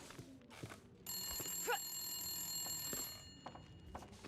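A telephone bell rings in The Long Dark, one clear sustained ring burst of about two seconds, quiet and set among scattered footsteps and small thuds before and after.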